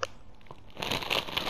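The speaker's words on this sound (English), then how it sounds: "I'm crinkling up the bag to chips" Chip bag being crumpled by hand, a short crinkling that starts faint and swells into dense, bright crackling rustles near the microphone, with no talk over it.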